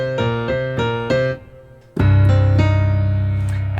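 A piano plays the chord from a song: a few repeated struck chords, a brief quiet gap, then a sudden loud, powerful chord ringing out and sustained, close and alone.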